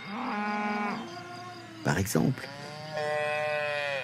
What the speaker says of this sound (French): Ne me dites pas que ces meuglements se ressemblent tous.